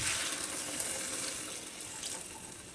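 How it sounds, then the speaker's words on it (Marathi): Hot water pours into a pan of sambar vegetables, a soft, steady, close running-water wash that fades slightly over the few seconds, with no talk. "गरम पाणी घालायचं"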